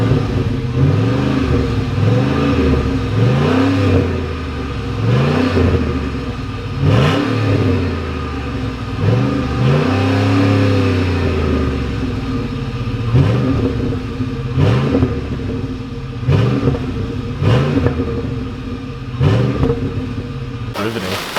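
A Ford Raptor V8 fitted with a Corsa exhaust revs repeatedly and loudly, rising and falling through several throttle blips before settling into a deep, close burble.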